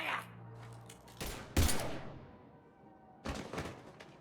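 Gunfire from the Mass Effect 3 video game: a few sharp, loud bursts of shots, one near the start and another later, over a low steady background hum.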